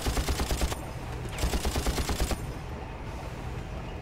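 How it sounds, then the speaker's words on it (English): Gunfire in the video game Far Cry comes in two rapid automatic bursts of rhythmic cracking shots, separated by a short pause and followed by a lingering rumble. "Someone is shooting at me from somewhere."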